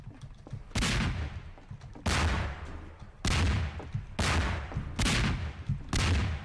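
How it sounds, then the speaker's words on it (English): Cannons blasting cannonballs in the video game Garry's Mod: five or six loud booming shots at a steady interval of roughly a second, each with a sharp onset and a rumbling decay, over a faint background. "I'm a firing my cannonballs."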